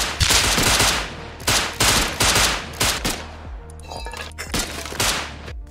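Gunfire in the video game Rust, loud repeated bursts of automatic fire in close rhythmic clusters, separated by brief gaps, no voices over it.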